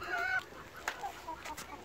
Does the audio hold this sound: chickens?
yes